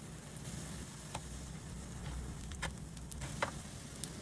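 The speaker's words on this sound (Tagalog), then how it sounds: "And then lutuin lang natin until mag-golden brown both sides." Cabbage patties sizzle steadily in a frying pan as they brown on both sides, with a continuous close hiss broken by a few sharp crackles and pops.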